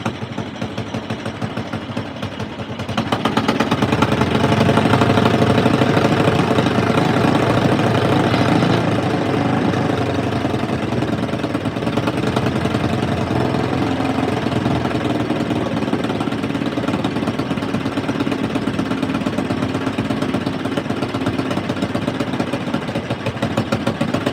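A Big Red engine idles with its throttle held slightly open by tape, starting up after a brief quiet moment into a steady, rough, chugging rumble that runs loud and close without a break.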